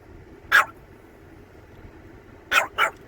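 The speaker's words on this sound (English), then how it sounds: "she got that Doberman going on" A big Doberman barks three times at a moderate distance: one deep bark, a pause, then two quick barks over faint background hum.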